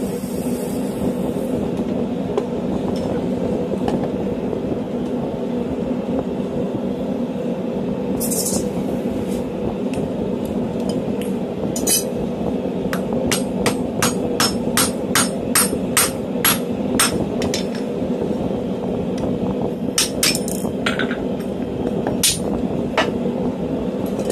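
A blacksmith hammers hot 8 mm steel stock into a rivet. Sharp, ringing strikes come in a fairly regular run over a steady background hum, clustering closely in the middle stretch before thinning out.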